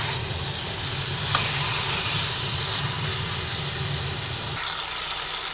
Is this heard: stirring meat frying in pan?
yes